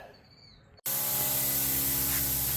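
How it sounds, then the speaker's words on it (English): A homemade-air-dryer-equipped air compressor kicks on abruptly after near silence, settling into a loud, steady motor drone and broadband hiss that holds without letup. "Compressor's running"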